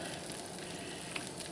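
Chicken pieces frying in butter in a large cast iron skillet, a steady, dense sizzle that holds at an even level throughout with a faint crackle, heard alone with no talking.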